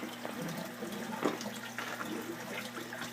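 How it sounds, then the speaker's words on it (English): Water from an airlift pump pours steadily into a tank as a continuous faint splashing trickle with no breaks, part of a bio shelter water system. "the airlift pump picks it up, brings it over, and dumps it off again"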